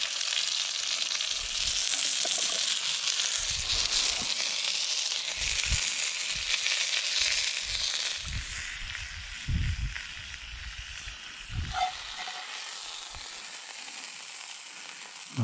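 A cheeseburger sizzles and fries steadily in a pan on a Firebox Freestyle stove outdoors in the woods, with a constant close hiss broken by occasional low knocks and handling sounds, and no talking.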